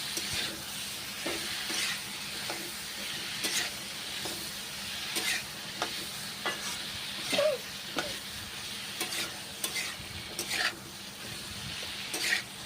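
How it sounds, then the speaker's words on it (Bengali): Ivy gourd and spices being stir-fried in a pan, with a steady close sizzle under repeated scraping strokes of a spatula at an uneven rhythm, no voices. "কুঁদরি এবং মশলা এখন একসঙ্গে কষে নিচ্ছি এবারে নেড়ে চেড়ে কষে নিচ্ছি মশলা কুঁদরি"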